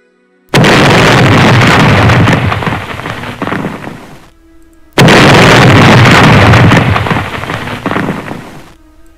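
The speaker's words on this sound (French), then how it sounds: "Dieu fit pleuvoir du feu." Fire raining down from the sky with explosions in a spiritual battle scene: two loud, sustained roaring blasts, each a few seconds long and slowly fading, separated by a brief silence.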